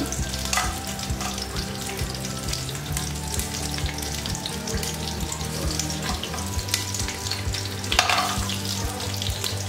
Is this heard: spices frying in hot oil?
yes